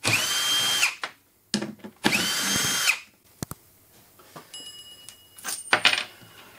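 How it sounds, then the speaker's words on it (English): A power drill backs huge shipping bolts out of a McIntosh MC462 power amplifier crate in two loud whirring bursts, followed by clinks and rattles of metal parts and a final short drill run. "grab a drill with a suitable size chuck and take these huge bolts that are securing the unit off."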